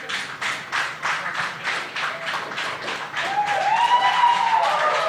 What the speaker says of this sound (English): some round of applause